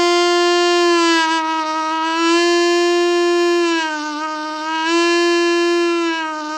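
A single sustained sung note, strong and steady, bends down in pitch using the larynx and then rises back up, dipping again near the end; one voice alone with no talk.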